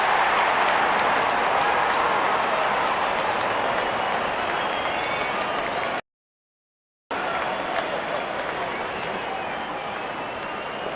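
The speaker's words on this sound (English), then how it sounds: "Openers walking in and the crowd cheering in anticipation." Dense, steady crowd roar and cheering from a stadium in a cricket mobile video game, India versus Pakistan World Cup match, as the openers walk in; loud and continuous, cut by a brief silent gap partway through.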